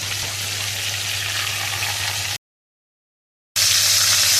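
KFC-style fried chicken frying in hot oil: a steady, close hissing sizzle that runs continuously, breaks off into a short silence, then resumes at full strength.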